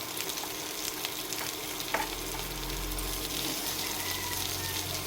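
Onions and tomatoes fry in a pan for butter masala rice, giving a steady, soft sizzle with occasional stirring clatter close by.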